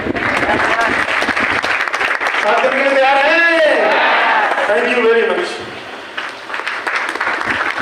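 An audience at a marketing business meeting breaks into loud sustained clapping that swells through the middle and tapers off, with someone speaking into a microphone before and over it.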